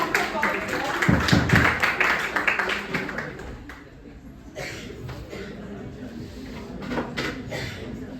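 Audience clapping for a nursing officer taking the stage at a retirement event, a burst of applause that swells near the start, then fades into room murmur and scattered taps while voices talk over it.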